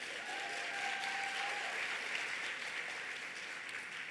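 Steady applause from an audience at an evening author talk, a dense even wash of clapping lasting throughout at constant loudness, with a faint tonal whistle early on.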